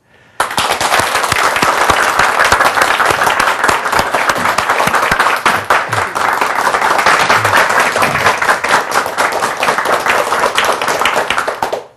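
Sustained audience applause welcoming a guest lecturer to a reading-therapy talk, dense and steady clapping from a large crowd that starts abruptly and holds for about eleven seconds without speech.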